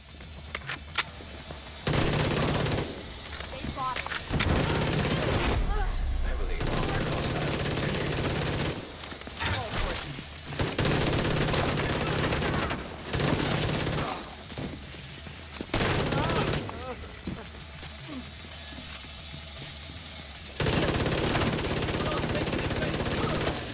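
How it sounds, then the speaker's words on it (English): Rapid automatic gunfire in the shooter game The Division 2, fired in long loud bursts that stop and restart several times, with short quiet gaps between the volleys. "our high rate of fire is helping to keep our stacks up"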